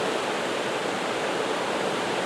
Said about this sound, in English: the gates are open and they're letting the water and the flood waters out of the Rother